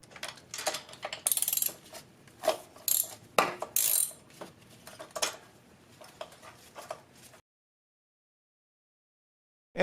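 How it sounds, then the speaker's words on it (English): A ratchet loosens a spark plug on a 1992 Acura Legend using a 5/8 inch magnetic spark plug socket, giving close, crisp clicking bursts in uneven runs with short pauses, then stopping into silence. "To remove the spark plug, I'm using a 5/8 inch magnetic spark plug socket."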